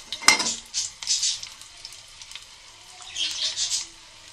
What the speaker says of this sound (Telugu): తాలింపు అంతా చక్కగా ఫ్రై అయిపోయింది